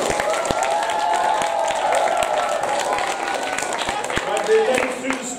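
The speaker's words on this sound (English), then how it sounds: "Give them a round of applause." An audience at a school nativity play claps in a sustained round of applause, moderately loud with scattered sharp claps, while an adult speaks over it.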